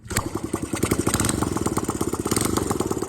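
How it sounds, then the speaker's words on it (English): An old Honda CB125 street motorcycle engine runs close by, a loud rapid even putter of exhaust pulses that carries steadily throughout with no voices. "we got this old Honda street bike to run"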